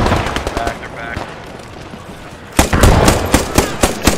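Gunfire in the World War II shooter game Post Scriptum: sharp, loud bursts of rapid shots, sparse at first, then a dense volley of close automatic fire in the second half, with voices mixed in.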